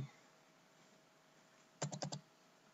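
A quick burst of about five keystrokes on a computer keyboard, close and crisp, after a quiet stretch of faint room hiss.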